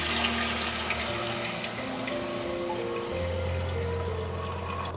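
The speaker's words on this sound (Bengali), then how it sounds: "ঘিটা গরম হয়ে গেছে, আমি এর মধ্যে দিয়ে দেব দুধ।" Milk poured into hot ghee in a wok, giving a steady, close rushing pour with a gentle hiss that runs through the whole stretch, with no voices.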